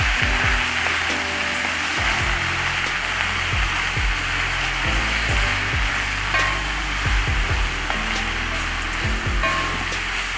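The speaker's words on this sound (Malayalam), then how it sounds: "മഞ്ഞൾപ്പൊടി നന്നായിട്ട് ഇളക്കി കൊടുക്കാം" Turmeric powder is stirred into banana flower in a frying pan, giving a constant dense sizzle and hiss with occasional scraping knocks, and no talk.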